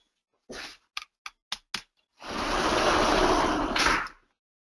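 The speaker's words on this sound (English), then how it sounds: "That was the sound of a sliding door." A sliding door opens or shuts during a conference presentation: a few sharp knocks, then a loud, rolling rush that lasts about two seconds and stops abruptly. No one speaks.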